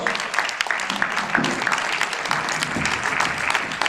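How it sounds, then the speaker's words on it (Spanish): Audience applause at a Galician improvisation show, a dense, steady wash of many hands clapping that fills the whole stretch at moderate loudness, with no talk over it. "Ese aplauso poderoso para todos nós."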